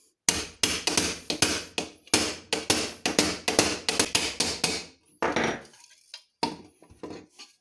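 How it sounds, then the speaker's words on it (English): A small hammer taps on a Tonka Sportsman truck topper while a window is being cut, a rapid series of sharp metallic-wood knocks in quick bursts, close and loud, then a few slower scattered taps. "Take your little hammer."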